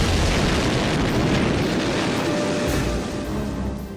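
A one-kilogram bomb in an assassination attempt on Hitler erupts into a dense, continuous roaring blast. The loud rumble fills the space and only slowly fades.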